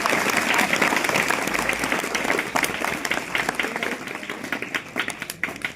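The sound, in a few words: applause for the school principal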